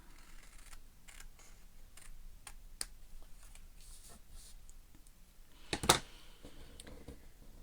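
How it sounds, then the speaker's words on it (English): Excess paper is trimmed off a stamped handmade card: a string of quiet, crisp clicks and snips, with one louder, denser crackle of cutting near the end. "And then I'm just going to turn that over and trim off the excess."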